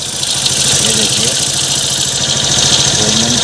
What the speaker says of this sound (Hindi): अभी मैं गाड़ी की स्टार्ट करने जा रहा हूँ।